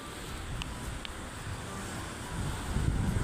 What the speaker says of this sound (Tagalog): Kalaban talaga natin, lakas hangin.